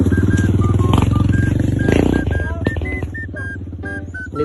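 A nearby motorcycle engine runs with a steady, throbbing idle, rising briefly in a rev before settling, while high electronic beeps or tones chirp over it at irregular intervals.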